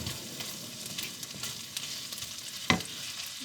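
Chopped garlic sizzles steadily in a hot pan, a continuous close crackle with light scraping as it is stirred and one sharper clatter near the end.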